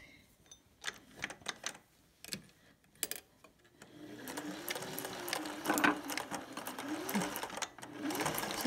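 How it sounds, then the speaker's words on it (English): Sewing machine stitching a curve on a shirt collar stand, a few short bursts of needle clatter at first, then a continuous close rhythmic whirring run, with a faint voice under it. "we're sewing this curve on the collar stand"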